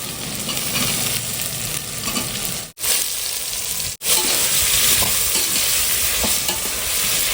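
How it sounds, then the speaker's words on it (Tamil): Tomatoes fry in oil with ginger-garlic paste, making a loud, steady hissing sizzle up close. The sizzle cuts out abruptly for two brief moments. No voices are heard. "தக்காளி போட்டாச்சு தக்காளி நல்லா வதங்கணும்"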